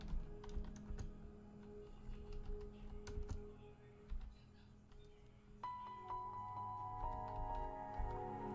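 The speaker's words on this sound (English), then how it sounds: "I had to do a little bit of a typing." Computer keyboard typing under a game session, a run of light clicks with a tonal backdrop coming in partway through.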